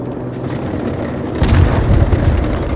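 A cruise missile detonates in Call of Duty Modern Warfare Ground War, a sudden deep boom that swells from steady battle noise into a loud, sustained low rumble lasting over a second.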